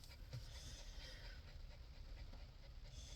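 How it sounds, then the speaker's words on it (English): A nervous rescue dog pants steadily and rapidly inside a moving car, its quick breaths running continuously beneath a constant low road and engine rumble. "now she's back to it, the stress panting again"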